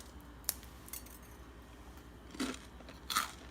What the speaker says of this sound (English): My crackers has cooled down, and this thing is like, you're just going to hear the snap.